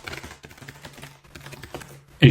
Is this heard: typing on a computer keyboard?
yes